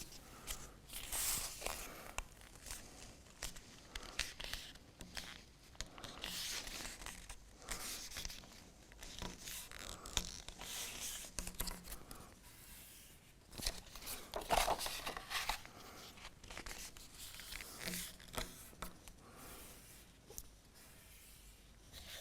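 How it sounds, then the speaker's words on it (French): A paper document for building a heliolabe is folded along a dotted line, giving scattered crinkling, rubbing and creasing sounds that come close and fairly quiet in irregular bursts. "On vient plier ce document-là le long de la bande pointillée."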